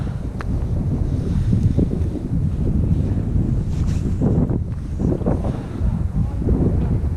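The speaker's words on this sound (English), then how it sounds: "But the wind is not getting better." Wind blows over the water during winter fly fishing for rainbow trout, a constant low roaring buffet across the microphone with gusting swells throughout.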